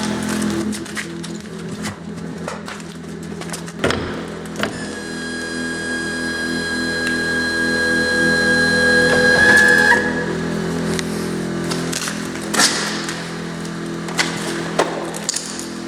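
A hydraulic rescue ram pushes a car dashboard forward during a road traffic collision extrication drill, giving a loud, steady mechanical whine that builds for several seconds over metallic clanks and scattered knocks.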